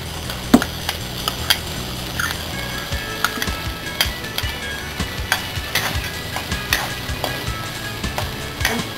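Green peas, carrots and green onion stir-frying for Chinese fried rice, a loud continuous sizzle cut through by frequent sharp scrapes and clacks of a utensil against the pan, with no one talking.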